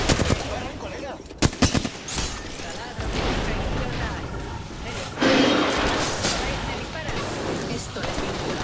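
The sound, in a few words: gunfire in a video game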